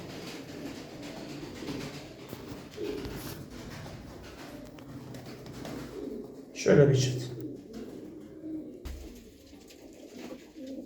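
Pigeons coo nearby over a low outdoor rumble, with a brief louder burst midway and someone speaking briefly.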